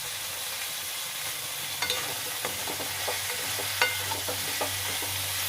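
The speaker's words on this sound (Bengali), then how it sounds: "এটাকে একটু ভালো করে কষিয়ে নিতে হবে।" Small fish stir-fried in a pan with turmeric, salt and cumin powder on a low gas flame, a steady soft sizzle with scattered scrape and stir clicks throughout, no talking.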